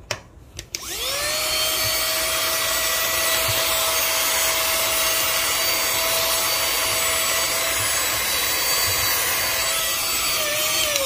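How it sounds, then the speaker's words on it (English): A vacuum cleaner starts after a few clicks and runs with a loud, steady whine as it sucks stuck coffee grounds out of a DF64 grinder with SSP MP burrs. "let me use a vacuum cleaner to vacuum out the coffee ground that's stuck inside there"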